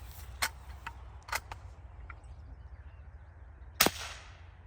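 Three CCI Quiet .22 LR subsonic 40-grain rounds fired in turn at a chronograph, each a sharp, short crack spaced about a second or two apart, the last the loudest, over a low steady background hum.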